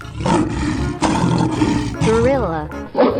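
A lion roars loudly and continuously in a 3D animal video game over about three seconds, with brief breaks and a rising and falling tonal sweep near the end, mixed with other game sounds.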